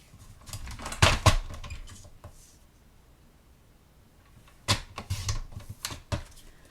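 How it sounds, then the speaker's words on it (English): A thin 1/8 inch strip is sliced off a patterned paper piece for card-making. Two bursts of crisp, close clicking and scraping strokes are separated by a quiet pause. "and then we slice off 1/8 inch."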